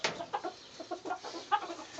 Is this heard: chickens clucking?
yes